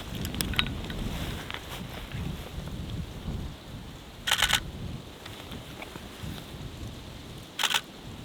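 Camera shutter firing in quick bursts of clicks while photographing bison in freezing Alaskan cold, three short rapid volleys spread apart, close and crisp over a low rumbling wind background.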